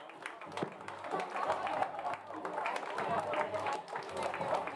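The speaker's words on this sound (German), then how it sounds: "Auf einen tosenden Applaus für unsere US-Cars." Crowd applause at a regional league American football game between the Biberach Beavers and Fellbach Warriors, scattered clapping and cheering from spectators beneath an amplified announcer's voice and some background music.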